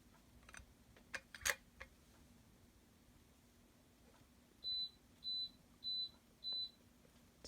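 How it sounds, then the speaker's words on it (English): Four evenly spaced electronic beeps from an oven timer, fairly high-pitched and moderately loud, follow a few faint scattered clicks in an otherwise quiet room. "Sorry about the beeping."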